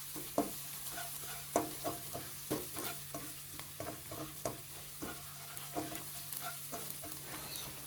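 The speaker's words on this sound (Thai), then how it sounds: "ใส่พริกกระเทียมโขกลงไปได้เลยครับ กับน้ำมันเล็กน้อยนะครับ แล้วก็ผัดให้เหลืองหอมเลยครับ" Pounded dried chili and garlic stir-fry in a little oil, a steady close sizzle broken by regular scraping strokes of a spatula against the pan, with no talk.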